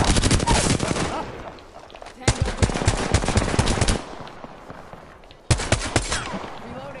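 Rapid automatic gunfire from the video game Apex Legends comes in three loud, close bursts separated by short quieter gaps.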